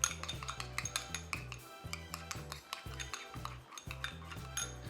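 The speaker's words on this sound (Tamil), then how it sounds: "இதை போட்டு நல்லா பீட் பண்ணிக்கோங்க." Rapid rhythmic clinking of a fork against a bowl while eggs are beaten with salt, pepper, green chilli and coriander, quick steady strokes close by with no talk.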